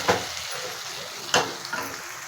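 Chopped tomatoes fry in a pan for pepper chicken, giving a steady close sizzle with two sharper spatula scrapes or clatters standing out.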